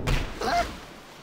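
A blitzball strikes a character in Final Fantasy X, a single quick thud with a short swoosh, close and fairly loud, fading within about half a second.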